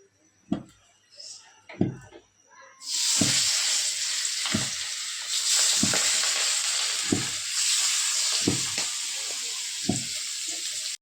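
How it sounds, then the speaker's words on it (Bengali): Ayre fish slid into hot oil sets off a loud, sudden sizzle after a few quiet knocks, and the frying hiss then carries on steadily with soft regular thumps beneath it. "এখন তেল গরম হয়ে গেছে, এখন আমি আর মাছটা বসায় দিব ভাজি করার জন্য।"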